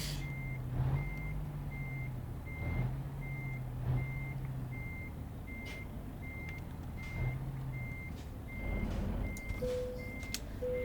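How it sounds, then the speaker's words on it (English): A truck in the Euro Truck Simulator 2 video game reverses, sounding a steady, evenly spaced series of reversing beeps over a low engine rumble, alone and at moderate level. "We're gonna go ahead and back up and get ourselves hooked up to this truck."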